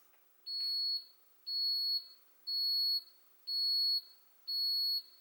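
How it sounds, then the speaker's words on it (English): Ninja Coffee Bar machine signalling the end of brewing with five evenly spaced high electronic beeps, each about half a second long, clear and close with no talking. "You heard the 5 beeps, that means the unit is finished brewing."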